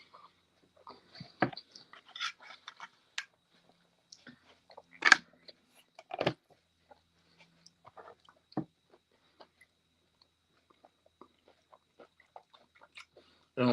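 Someone chews garden greens with a spinach-like taste, making sparse, close crunches and bites scattered through a quiet room, a few louder bites standing out.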